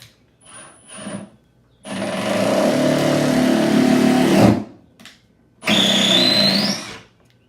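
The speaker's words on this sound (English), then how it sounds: "This is 2100 RPM." A Milwaukee drill with a quick-change chuck runs at 2100 RPM, a steady loud whir lasting a few seconds, with shorter bursts of running before and after.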